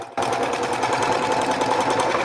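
A sewing machine stitches a fabric placemat pouch, starting abruptly and then running in one loud, continuous, fast-rhythm whir, close by with no voices.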